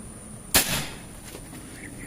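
A Predator Mini Python-L air rifle with a 40 cm seamless barrel fires a single sharp, close crack through a chronograph. A short rattling decay follows, then faint clicks.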